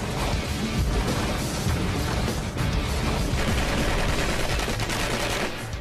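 Projectiles fired repeatedly at a granite block resting on breeze blocks, producing a dense, continuous barrage of loud impacts and rumbling crashes with no pauses.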